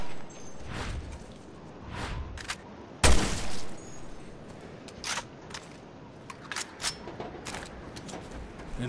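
Gunfire from Resident Evil: Revelations 2 on an island, aimed at invisible monsters: one loud shot punches through, with scattered quieter shots and clicks around it over a low ambient hum.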